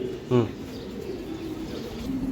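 A racing pigeon gives a single short, close coo, followed by a quiet stretch of faint background noise.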